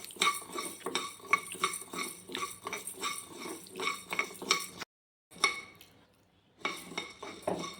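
Urad dal roasting in a pan, stirred steadily with a metal spoon that scrapes and clinks against the pan in a close, repeating rhythm, with a short silent pause before the stirring resumes.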